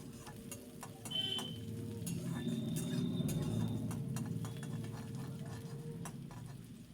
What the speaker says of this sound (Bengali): পেঁয়াজটাকে খুব ভালো করে লাল করে ভেজে নেব।